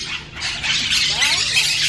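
A pet parrot squawks in short, harsh, raspy bursts at close range, loud and bright, with a person speaking nearby.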